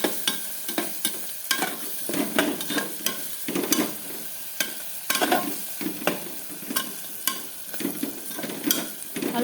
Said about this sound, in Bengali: সবজিগুলো একটু ভাজা ভাজা হয়ে আসছে,